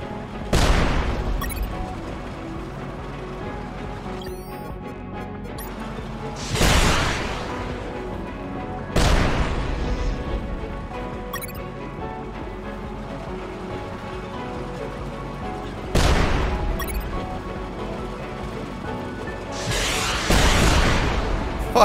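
Rockets firing and exploding in the video game UnMetal: four loud booming blasts spread out over steady, rumbling game background noise, each burst trailing off slowly.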